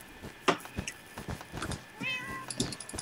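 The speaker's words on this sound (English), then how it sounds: "My kitty's here, David." A pet cat meows several times close by, short rising calls with a drawn-out cry midway, over faint room noise during a gaming session.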